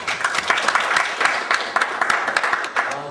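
An audience claps for two lecturers at a Korean healthcare industry seminar, dense, even applause with distinct hand claps sustained from start to finish.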